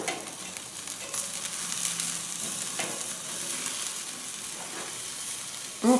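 A frozen Chicago Steak Company strip steak searing on a grill gives a continuous moderate sizzle with light crackling throughout, ending in a brief louder clatter.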